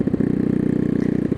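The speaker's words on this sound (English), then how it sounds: "this is the maiden voyage of the C65, and it's a really cool little bike" A small Honda Cub C65 motorcycle on a test ride, its engine giving a close, steady, buzzing putter with a rapid regular pulse for a brief moment.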